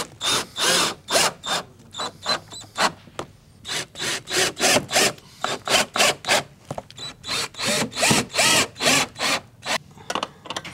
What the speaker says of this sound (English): Once aligned, screw the belt to the top barrel.